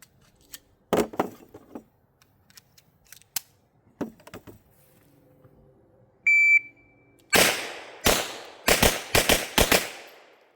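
A Husqvarna 1907 pistol in .380 ACP fires a quick string of about six sharp, loud gunshots, preceded by faint clicks and handling noises.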